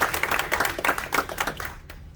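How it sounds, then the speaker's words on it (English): Audience clapping at a magic show in a theatre, a burst of close applause with irregular hand claps that fades out quickly. "Another round of applause for Aziza"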